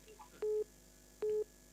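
Telephone keypad tones: two short, identical beeps about a second apart, clear against a quiet background.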